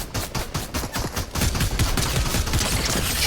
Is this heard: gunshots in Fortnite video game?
yes